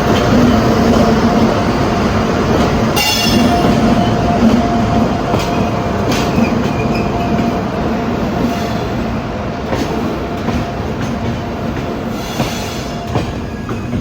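Rajdhani Express hauled by a WAP-7 electric locomotive from Bhagat Ki Kothi shed, running past loud and close with a steady rumbling roar, rhythmic wheel clatter and faint high squeal, no voices.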